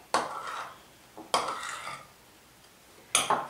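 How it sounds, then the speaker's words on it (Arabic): A utensil scrapes and clinks against a bowl three times while kiwi is mixed into green cream for a layered rainbow cake, each stroke a brief close swish separated by quiet pauses. "نخلط الكيوي في وسط اللون الاخضر"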